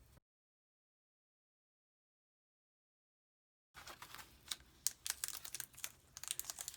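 Tape tearing off a roll at a desk during journal setup, a quick run of close, crackly crinkling and ripping bursts after a stretch of silence.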